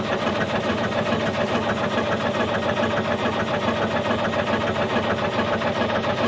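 An old dragline engine, abandoned in the woods for over twenty years, runs steadily at a mid-pitched idle with a continuous rumble and faint vibration, close and without any voices.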